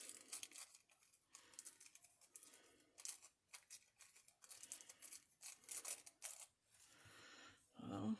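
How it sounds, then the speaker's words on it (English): Paper being torn by hand into strips for mixed media artist trading cards, a run of close, scratchy rips and crinkles coming in bursts with short pauses, with no talking. "I'm going to rip it."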